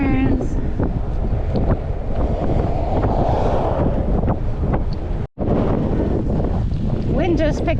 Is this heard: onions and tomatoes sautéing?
no